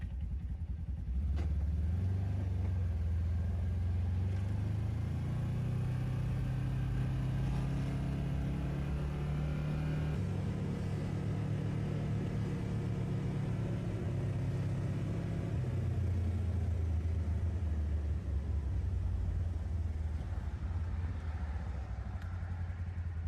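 Polaris side-by-side UTV driving on hot city streets, its engine a low steady rumble that climbs in pitch through acceleration and drops back, close and constant with no talk.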